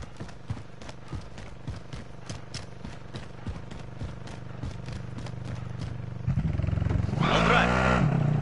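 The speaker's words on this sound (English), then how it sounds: "Light vehicle here." A light vehicle's engine in a video game, driving with a steady rumble and rhythmic clatter that swells louder and rougher near the end as it revs up close.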